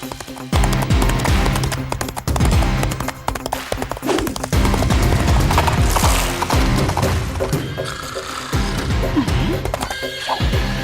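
Hooves of a horse being ridden in a horse race pound in a dense, continuous stream, with whinnies. Heavy clattering and mechanical-sounding noise crowds around them throughout.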